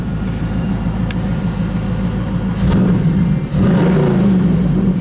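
Engine of a 1997 Pontiac Trans Am running with a deep, steady idle rumble, then rising sharply in a rev with a short dip before holding a louder, rougher tone, heard close up.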